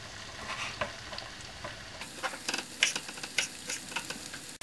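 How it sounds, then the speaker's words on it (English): Onion fries quietly in a pan, a soft sizzle broken by scattered crackles and light taps that sharpen in the second half, faint and without speech. "I put onion to fry a little bit"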